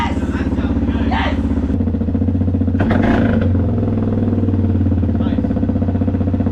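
A four-wheeler engine runs loudly and close with a steady, throbbing low drone, a short clattering burst partway through, and people talking over it.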